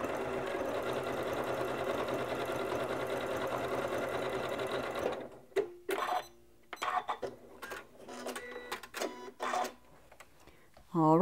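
A Janome MC9400 sewing machine runs a triple stitch at the default 2.5 stitch length, first as a steady continuous whir, then in short stop-start bursts with clicking pauses between them.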